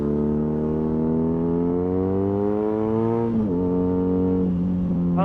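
A car engine drones steadily with a rising exhaust note as it accelerates, briefly dips at a gear change, then climbs again; no voices.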